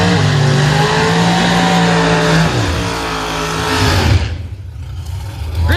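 An outlaw 4.70 door car drag racing engine revs loudly and close at London Dragway, a deep rough roar with rising pitch that cuts off sharply, then lower rumbling follows.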